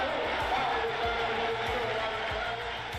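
Boston Celtics home crowd roaring in an arena as Greg Kite checks into the game, a loud, sustained wall of cheering and shouting with no break across the clip.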